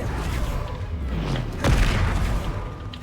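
A Bombarda blasting spell goes off in a Harry Potter video game as a deep booming explosion with a rumbling thud partway through, over a dense, continuous wash of game noise.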